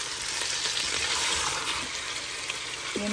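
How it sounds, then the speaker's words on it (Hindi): Mutton pieces frying in a pot for haleem, a steady close hiss of oil with light stirring scrapes, continuous throughout with no voices. "बस इसके साथ थोड़ा सा भून लेती"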